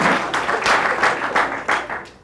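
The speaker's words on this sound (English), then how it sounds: "you guys are so good at this applause thing" An audience breaks into applause, a sustained wash of clapping that surges in several loud bursts and fades slightly, heard up close with no talking over it.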